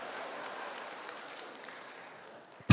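A church congregation applauds during a Korean service honouring a retiring senior pastor and installing a new one, a steady, moderate wash of clapping that fades slightly before an abrupt sharp noise at the very end.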